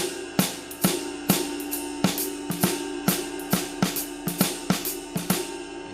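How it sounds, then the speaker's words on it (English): Jazz drums play a swung pattern with a ride cymbal and hi-hat on 2 and 4, giving a steady run of crisp hits and cymbal wash at moderate level, alone with no talking. "But this time I'm playing the ride cymbal as well."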